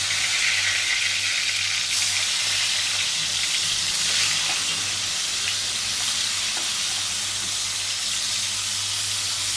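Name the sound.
frying fish (rui or katla) in pan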